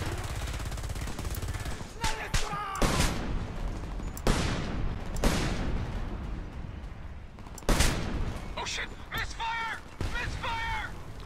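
Mortar and gunfire in the Homefront video game, a series of loud booming blasts and rattling bursts recurring through the clip, with a voice talking over the battle.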